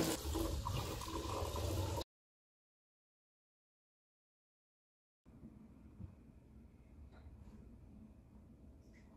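A steady rush of homemade wine pouring into a container, loud for two seconds, then a brief silence followed by quieter trickling and faint handling sounds.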